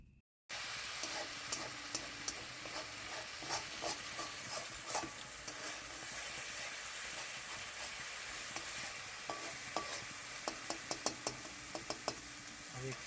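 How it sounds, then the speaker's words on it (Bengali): Cumin seeds and cinnamon tempering in hot oil in a kadai, a steady bright sizzle with scattered sharp pops and crackles running throughout, fairly close, with no talk over it. "তেলে আমি জিরে ফোড়ন দিয়েছি এবং দারচিনি ফোড়ন দিয়ে নিয়েছি।"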